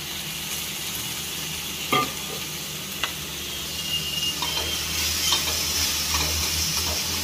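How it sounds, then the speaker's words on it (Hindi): Onion frying in oil in a kadhai, a continuous close sizzle with occasional scraping stirs and a couple of sharp ladle knocks against the pan, growing slightly louder toward the end, no voices. "सुरुवातीला मी कांदा भाजून घेते"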